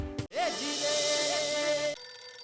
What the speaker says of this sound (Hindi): हाँ किसी का फोन बज रहा है।